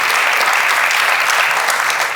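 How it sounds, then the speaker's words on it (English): Dense, steady applause from a live audience at a public forum event in New York, filling the whole stretch loud and close with no pauses. "No matter what side you're on, please give a big round of applause."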